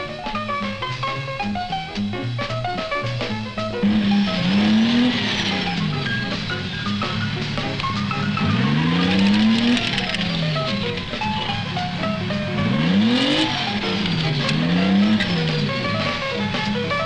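M551 Sheridan light tanks running on jungle tracks during tropical battlefield trials, with a loud continuous engine roar and track clatter that repeatedly swells and pitches up and down as vehicles pass close by.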